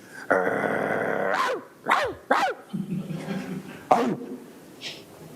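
A person imitating a bulldog, opening with a long rough growl and following with several short gruff barks and coughing grunts, loud and close with no other talk.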